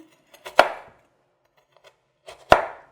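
Two sharp knife chops through partly frozen tomatoes on a board, spaced about two seconds apart, each a crisp close thud with a brief crunchy tail, otherwise near silence.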